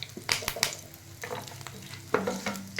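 Mustard seeds and potatoes fry in a pan for a masala poha dish, giving a steady close sizzle with a few sharp crackles and the scrape of stirring.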